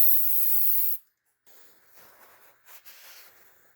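CRC QD electronics cleaner sprays hard onto BMW 750iL E32 throttle body parts in one loud, steady hissing burst of about a second, then softer scattered rustling and faint handling noises follow.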